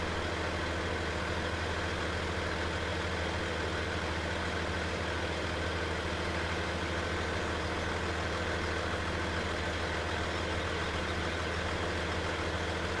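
A T880 heavy-haul truck idles in Farming Simulator 17, a steady, unbroken diesel rumble with a low drone that holds evenly throughout, close and fairly loud, with no voices.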